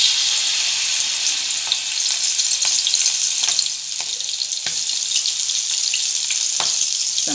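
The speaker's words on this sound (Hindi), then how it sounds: "अब मैं इसमें कालू डालूँगी" Kalu oysters fry in hot oil in a frying pan, a loud, close, continuous crackling sizzle with intermittent sharp pops and spatters throughout, no voices.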